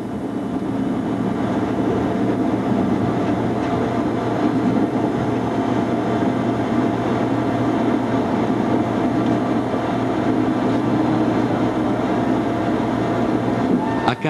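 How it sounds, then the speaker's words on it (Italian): A train runs along the Pontebbana railway in a continuous, steady rumble with rolling mechanical noise, loud and unbroken throughout. "A Carnia il treno può aumentare la velocità a 80"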